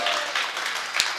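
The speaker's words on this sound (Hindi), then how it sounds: "एक बार ज़ोरदार तालियां अपने रहनुमा के लिए" Audience applause at a mushaira poetry gathering in Sambhal, Uttar Pradesh, a steady wash of clapping from a crowd with a sharper burst near the end.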